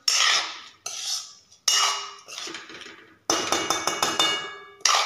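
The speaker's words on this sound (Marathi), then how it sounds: "तर आता ह्याला 1-2 मिनिटं मी व्यवस्थित परतून घेणार असंच।" Masala rice being stirred in a metal pan with a spoon, giving loud scraping clatters in several bursts with brief pauses between them, and no talking.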